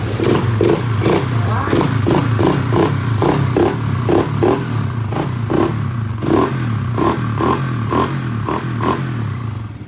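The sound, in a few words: Raider FI motorcycle engine starting after ECU repair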